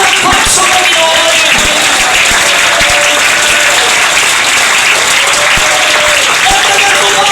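Loud, dense clapping from a large church congregation, continuous and energetic, with some voices mixed in.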